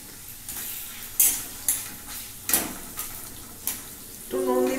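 Tomatoes added to hot oil with green peas in a pan, a quiet sizzle under several distinct scraping and clinking strokes of a spatula against the pan.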